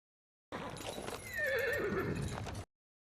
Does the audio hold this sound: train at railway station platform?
no